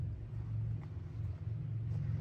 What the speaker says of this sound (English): I can hear somebody's motorcycle going.